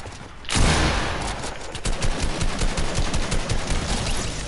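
Rapid gunfire in a multiplayer shooter video game, a dense fusillade that bursts in loud after a brief lull and keeps rattling steadily to the end, with no talk over it.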